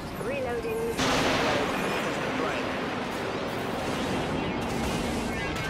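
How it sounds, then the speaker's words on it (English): Spaceship missile salvos and weapons firing in the game Dreadnought: a heavy roaring blast sets off a sustained rumbling barrage of launches and booms that fills the clip, with whistling streaks over it. "Fire the missiles and fire everything we can."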